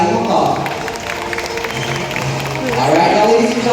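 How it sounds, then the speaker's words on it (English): An audience at a bird show in Cebu Safari Adventure Park applauds a flying macaw, with steady crowd clapping swelling toward the end while a presenter's amplified voice carries over it. "So a round of applause for flying macaw."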